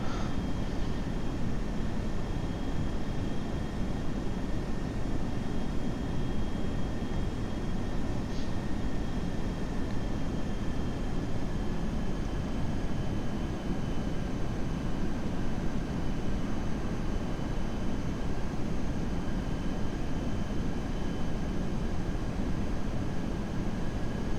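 Steady, loud cockpit roar of an FSLabs Airbus A320 on approach in a flight simulator, a dense even wash of engine and airflow noise with faint whining tones, unbroken and without speech.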